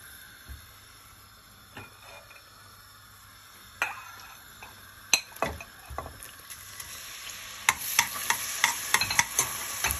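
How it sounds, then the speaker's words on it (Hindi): Chopped onions going into about half a cup of oil in a pot for chicken salan, with a soft steady sizzle under scattered stirring scrapes and clinks of a spoon against the pot, louder toward the end. "एक पतीली में हमने हाफ कप से थोड़ा सा कम ऑयल ले लिया है, और अब हम इसमें सबसे पहले प्याज डालेंगे।"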